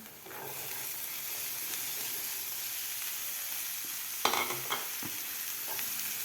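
Cowpea pods sizzle in a pan of spice masala, giving a steady even frying hiss, with a couple of brief stirring scrapes and clinks near the end and no talking.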